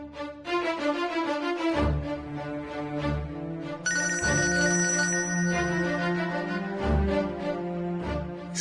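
A telephone rings in a Punjabi TV drama scene, a bright repeating electronic ring laid over a loud musical score, with no talking.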